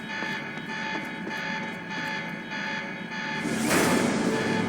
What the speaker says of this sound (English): Alarm's not gonna make my life any easier.